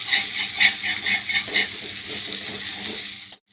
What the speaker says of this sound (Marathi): आता थोडं पाणी टाकून घ्यायचं.